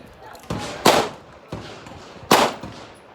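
Guns firing at an outdoor shooting range, with several loud sharp reports spaced a second or more apart, two of them especially strong, each followed by a short echoing tail.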